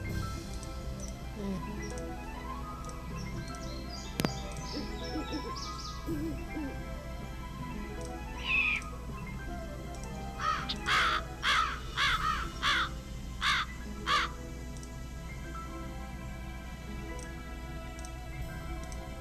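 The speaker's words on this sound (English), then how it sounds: "Birds sound angrier." A string of harsh crow caws in quick succession over a steady low hum, with faint ticking and background noise, from the video game Nancy Drew: Ghost Dogs of Moon Lake.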